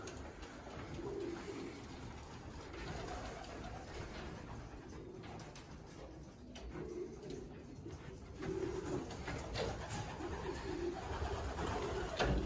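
Pigeons cooing at a loft in Rogowo before training flights, a steady murmur of soft, overlapping coos from many birds nearby, continuing throughout with faint background rustling.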